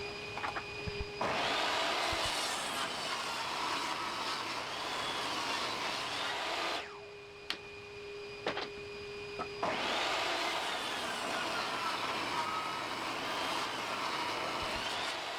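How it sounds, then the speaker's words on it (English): A table saw rips 2x4 boards to width, a loud steady whine broken by a brief lull as one pass ends, then a second long cut, with no voices. "On the table saw, rib them to 3 inches if jointed, else 3 1/4, then 3 inches on the opposite side."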